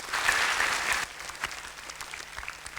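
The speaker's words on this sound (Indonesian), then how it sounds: "Sekali lagi kita tepuk tangan untuk MUM Indonesia 2016." Dense audience clapping for MUM Indonesia 2016 that cuts off after about a second, leaving scattered faint claps trailing in a quiet hall.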